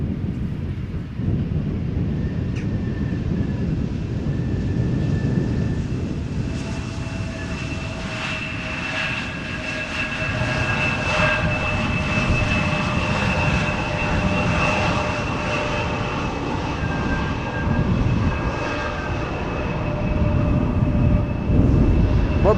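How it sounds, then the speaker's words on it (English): An Embraer 175 airliner landing at Amsterdam Schiphol Airport, its engines a loud, steady roar with whining tones that swells gradually as the jet passes, heard alone without talking. "Meanwhile, Embraer 175s landing in the background."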